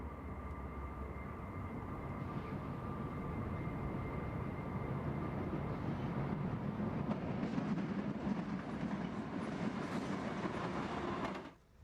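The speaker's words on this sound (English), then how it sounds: "Ludlow continues to host BNSF trains like this eastbound stack train." A long BNSF eastbound stack freight train rolls steadily past in the Mojave Desert at Ludlow, a continuous rumble with rhythmic clatter from the wagons, loud and close, easing off at the very end.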